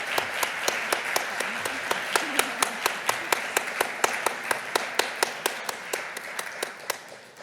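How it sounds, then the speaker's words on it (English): An audience at a health and care research awards ceremony claps steadily for a certificate recipient, a dense patter of many hands with a few sharp, regular claps close by. "If we could give her another clap, if that's okay."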